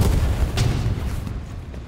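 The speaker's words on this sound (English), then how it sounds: "Also, enemy satchel on the enemy tank." A deep, rumbling blast from a satchel charge on an enemy tank in Hell Let Loose rolls out over a steady low-frequency roar of battle, heavy and sustained.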